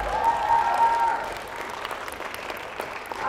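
Audience applause at a cosplay team parade at a convention, a steady patter of clapping from a crowd that fades slightly as a voice speaks over it.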